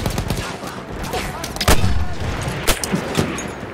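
Battlefield 1 video game gunfire crackles in rapid, overlapping bursts of close shots and heavier booms, dense and loud across a few seconds.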